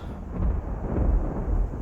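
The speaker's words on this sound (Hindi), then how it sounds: "इस वक्त बिजली कड़क रही है, बारिश हो रही है बहुत तेज़।" Low, rolling thunder rumbling steadily during a heavy nighttime rainstorm, with a dense wash of rain underneath, fairly loud and sustained.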